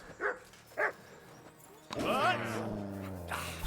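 Dog barking and whimpering in the medieval role-playing game Kingdom Come Deliverance 2: two short, sharp yelps open the clip, then a louder, sustained stretch of whining sounds mixed with a person talking.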